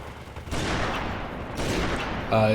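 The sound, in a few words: gunfire in video game Halo 3: ODST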